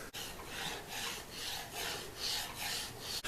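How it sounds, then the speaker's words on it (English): Candle wax is rubbed back and forth across a sanded cast iron tabletop in a quiet, rhythmic series of rasping strokes, about six passes, each swelling and fading, with no voices. "now I'm just going to add a bit of candle wax to keep the smooth sheen and slidiness"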